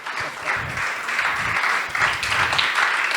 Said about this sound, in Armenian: Եկեք մի հատ ծափահարենք առաջինը Աստծուն, որ ինքը մեզ տվեց, եւ երկրորդը իր համար